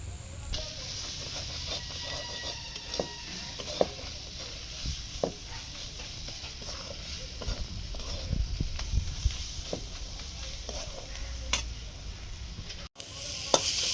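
Spice masala with salt, chili powder and cumin powder being fried and stirred with softened onion in a pan, giving a steady sizzle broken by frequent scraping and tapping strokes of the spatula, close by and without talk.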